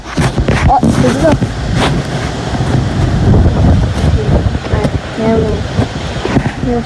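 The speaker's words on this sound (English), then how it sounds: "You'll feel it windy." Gusty wind blows outdoors on a breezy day, a steady broadband rush buffeting the microphone close up while people talk over it throughout.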